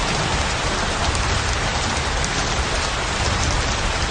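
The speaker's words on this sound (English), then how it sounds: "came the rain." Steady heavy rain of large drops pours onto sand and ground after a thunderstorm, a dense, even hiss and patter that stays loud throughout with no voices.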